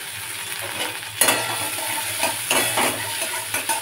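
Chopped onion frying in mustard oil in a wok, a steady close sizzle broken by scraping stir strokes and a few light clicks of a utensil against the pan, with no voices.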